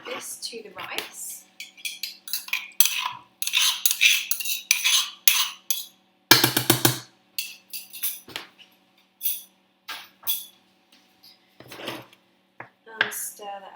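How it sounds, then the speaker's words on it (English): A metal spoon stirring stuffed pepper filling into rice in a pot, with steady scraping and clinking strokes in bursts, close and clear, plus a few brief louder clanks. "And stir that around. Mix it in all nicely."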